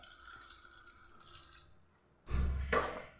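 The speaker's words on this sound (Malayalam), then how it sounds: "ഇതിലേക്ക് നമുക്ക് വെള്ളം ഒഴിച്ചു കൊടുക്കാം." Water pours into a pressure cooker pot in a home kitchen: faint drips and trickles at first, then a short, loud, close rush of pouring and splashing near the end.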